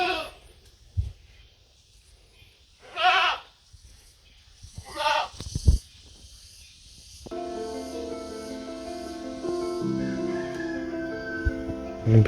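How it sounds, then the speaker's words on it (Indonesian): Goats bleating in an isolated village, a few loud wavering bleats close by separated by quiet pauses, then a steady background of music takes over. "Dan di sini ada kambing itu teman-teman."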